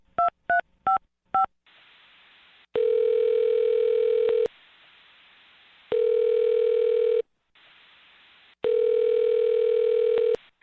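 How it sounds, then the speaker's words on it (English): A burst of quick touch-tone beeps, then a steady telephone dial tone sounding in three long stretches with short silent gaps between, clear and close. "I'm going to dial her phone number right now"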